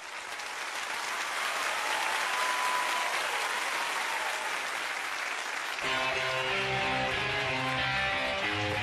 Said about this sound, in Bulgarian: Аплодисмент за Мерлин Менсън!